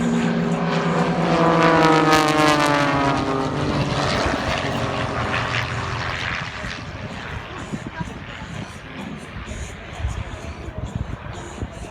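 Several propeller-driven aircraft fly together in a V formation during an air show in Australia, a loud sustained engine drone with shifting Doppler tones that gradually fades as the planes pass and recede.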